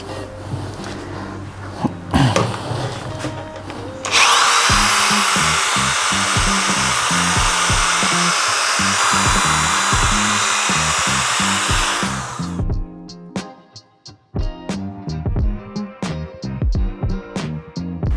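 A polishing machine buffs lacquered paint at low speed, its steady loud whirring drone holding for about eight seconds before cutting off into clicks and handling noises.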